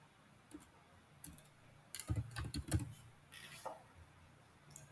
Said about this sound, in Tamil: என்னுடைய கம்பேனியன் நேம இங்க டைப் பண்ணிக்கிறேன்